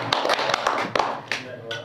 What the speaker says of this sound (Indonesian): Tepuk tangan dulu dan lagi.